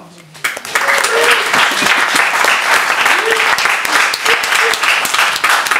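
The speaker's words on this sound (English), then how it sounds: "Give yourselves a round of applause." An audience at a live stage show breaks into loud, dense applause after a short silence and keeps clapping steadily, with a few voices calling out over it.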